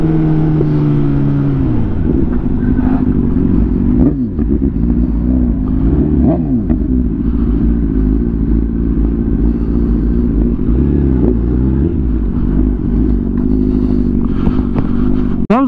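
Kawasaki ZX10R and BMW S1000RR sport bikes ridden hard together, a loud continuous engine drone with shifting revs, gear changes and rising-falling pitch sweeps, close and dominant throughout with no talking.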